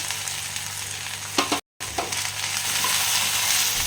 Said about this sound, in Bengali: এরপর আমি এটা একটু কষবো